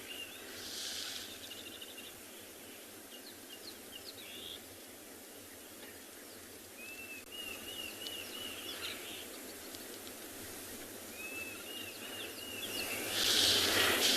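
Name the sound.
various birds calling at sunrise on safari, including Diederik's cuckoo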